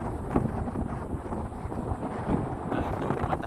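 Strong wind roars and buffets the microphone on a mountain trail up Gunung Buthak. The rumble is steady and loud across the whole stretch, with gusts rising and falling.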